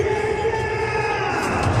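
A large cricket stadium crowd, thousands strong, holding a steady dense roar and murmur with scattered shouts, all fairly loud throughout.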